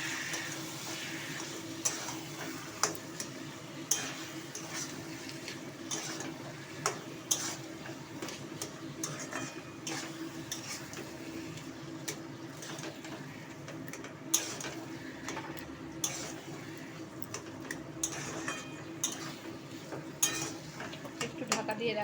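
Fish head curry with salt and turmeric being stirred in a pot, soft scraping and clinks of the spoon against metal at irregular intervals over steady low kitchen hum, close and moderately quiet.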